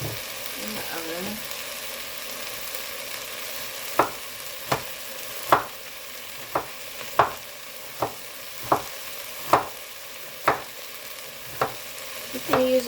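Beef and half an onion browning in a pan before going into the oven, a steady close sizzle of frying with regular scraping strokes of a stirring utensil roughly every second.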